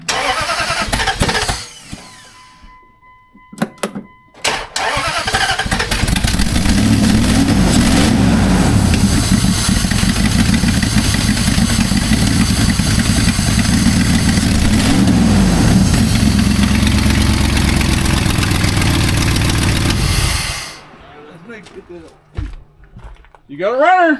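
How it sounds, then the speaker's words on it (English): An old car engine, newly swapped in, catches on its first start and roars, running loud and steady for about fifteen seconds before cutting out, with voices talking around it. "We got it running. It started right up."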